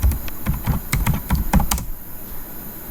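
A burst of quick keyboard clicks as someone types an SQL query on a computer keyboard, with irregular keystrokes for about two seconds before the room falls quiet.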